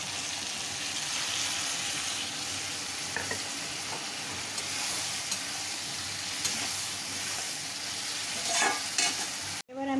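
Water-loosened spice paste frying in a pan for a tangra fish curry, stirred continuously under a loud, dense sizzle that runs throughout and cuts off abruptly near the end.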